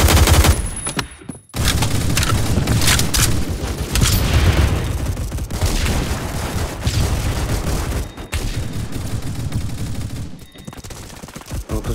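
Bursts of machine gun fire ring out in the video game Phantom Forces, loud rapid volleys with short pauses between them and heavy booms mixed in.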